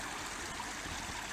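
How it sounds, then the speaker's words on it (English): Water flows from a stream diversion channel into a river, a steady, broad rushing wash heard distantly for a brief moment with no other sounds. "So the water's coming down."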